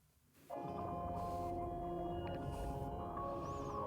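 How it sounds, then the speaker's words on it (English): A swelling, reversed-sounding texture rises in after a brief quiet, with sustained tones and a steady melodic bed underneath, loud and continuous. "And already we have these reverse sounds. Things playing in reverse."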